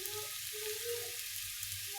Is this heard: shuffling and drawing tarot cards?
no